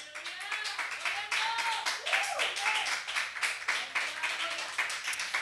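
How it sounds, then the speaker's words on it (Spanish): A church congregation gives a hearty round of applause, steady dense clapping lasting several seconds while voices call out over it. "¿Puedes darle un fuerte aplauso al Señor?"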